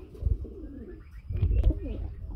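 Domestic pigeons, including a Sirazi pigeon, coo at a pigeon market with soft, low, rolling calls repeated in short bursts, moderately close and without talking.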